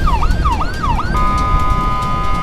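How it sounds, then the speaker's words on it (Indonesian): An ambulance siren sweeping in a repeating wail cuts over to a steady, sustained emergency tone partway through, loud and close against road noise, carrying a cardiac patient to Hermina hospital between Tasikmalaya and Ciawi. "ini ganti sirine jadi sirine darurat"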